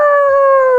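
A dog gives one loud, near, sustained howl with a wavering, voice-like tone, as if trying to talk. It rings out on its own.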